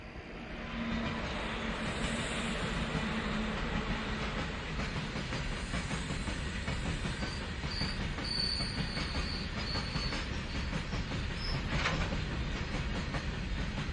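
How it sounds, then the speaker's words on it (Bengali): A late-night train pulling out and running along the rails in a cartoon soundtrack, with a continuous rumble and rattle of wheels, recurring metallic squeals above it and a steady level from start to end, with no talking. "ট্রেনটা ছেড়ে দিল।"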